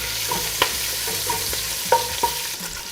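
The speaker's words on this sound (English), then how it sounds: "add the bacon in, and we'll just be moving it around for about 6 or so minutes until it's nice and crisped up" Bacon sizzling in hot oil in a pot for chicken pot pie soup, a constant close crackle with sharp little pops and spatters and the scrape of stirring, no voices.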